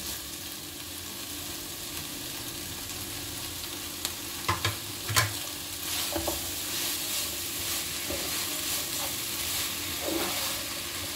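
Steady sizzling of vegetables and boiled macaroni sautéing in a pan, with occasional scraping and clinks of a spoon stirring, continuous throughout.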